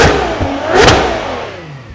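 The V12 engine of a Ferrari 12Cilindri revs sharply, a loud close-up roar peaking in a single high-pitched blip, then easing back down.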